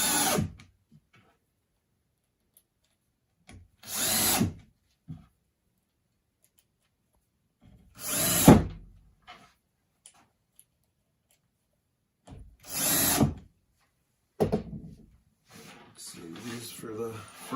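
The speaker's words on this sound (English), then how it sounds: "I'm going to just use some drywall screws" Power drill driving drywall screws into the wood of a table saw sled, heard as four separate short whirring bursts with quiet gaps between, then lighter handling noise.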